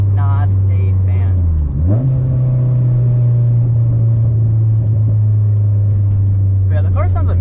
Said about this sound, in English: the car sounds amazing